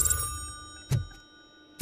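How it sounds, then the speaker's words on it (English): A telephone rings in a video game, with brief electronic ring bursts repeating at regular intervals over a steady tonal background hum, moderately close. "And a phone's ringing."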